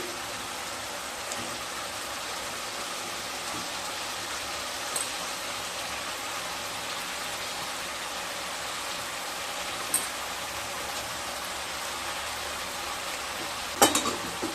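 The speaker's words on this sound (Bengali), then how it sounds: "ঝিঙে দিয়ে আলু আর মশলার সাথে ঝিঙেগুলোকেও খুব ভালোভাবে মিশিয়ে নেব" Ridge gourd, potatoes and spices being stirred together in a pan, a continuous soft sizzle and hiss with faint scraping and a few light utensil taps.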